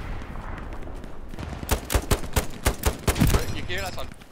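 A rapid burst of loud gunshots in the video game Hell Let Loose on the Omaha map cracks out in quick succession, a dense volley of shots following quieter background noise.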